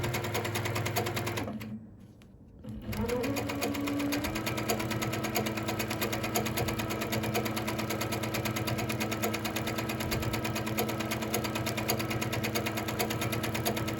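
A sewing machine stitches steadily during free motion quilting, a fast rhythmic whirring hum that pauses briefly near the start before resuming at a constant pace, close and moderately loud, no speech.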